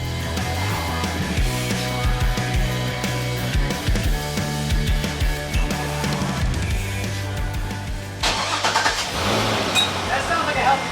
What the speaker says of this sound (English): Start her up and drive off.